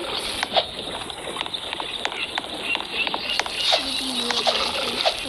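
Chicken clucking in the Roblox game 99 Nights in the Forest, short repeated bird calls over a steady background hiss, some distinct clucks toward the end.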